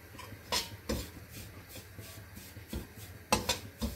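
Semolina roasting in a pan for sooji halwa, with a spoon stirring and scraping against the metal in scattered clinks and rubs over a low background hiss.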